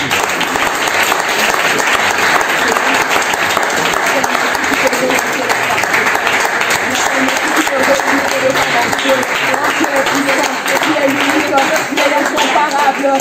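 A church congregation applauds and claps for Jesus during a deliverance service, loud and continuous rapid clapping from a crowd that fills the space, with voices mixed in underneath.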